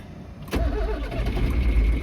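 Cold old farm tractor engine cranks over and catches after a brief starter whir, then settles into a slow, low rumbling idle, close and steady.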